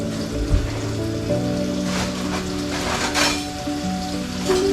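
Rib eye steak sizzles steadily in a hot pan, a constant crackling hiss with faint low hum underneath and no talking.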